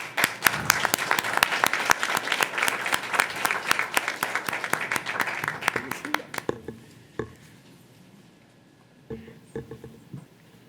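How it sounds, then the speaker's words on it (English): A city council meeting room breaks into a round of applause for the building safety team, many hands clapping briskly for about six seconds before it dies away into scattered claps and quiet room noise. "Let's give them a round of applause."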